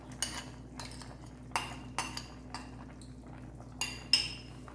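A utensil stirring chicken curry in a pan after tomato ketchup is added, giving a few light metallic clinks and scrapes spaced irregularly over a quiet background, with no talking.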